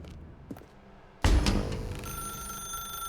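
A telephone rings in the video game The Stanley Parable, a loud bell-like ring that starts suddenly after a quiet stretch and keeps sounding with a bright, sustained metallic tone.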